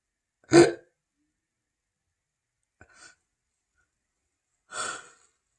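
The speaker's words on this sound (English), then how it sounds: "Sorry, I have the hiccups." Three short, isolated bursts from a person with hiccups, spaced a couple of seconds apart in an otherwise quiet room. The first is loudest and the next two are softer, with no talking between them.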